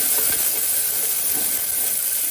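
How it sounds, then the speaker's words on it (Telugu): Finely chopped onions dropped into heated oil give a constant, close hiss of sizzling that fills the short stretch evenly. "ఆయిల్ వేడెక్కిన తర్వాత అందులో సన్నగా తరిగిన ఉల్లిపాయలు, వేసి"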